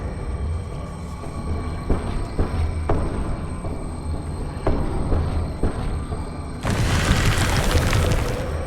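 Bombarda blasting spell from Hogwarts Legacy, a loud broadband explosion bursting in near the end after scattered softer thumps and game ambience.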